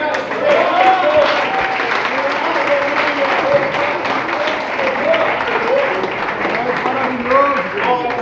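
Church congregation applauding during a sermon at an apostolic missionary church, sustained dense clapping under voices and calls of praise, steady and loud throughout.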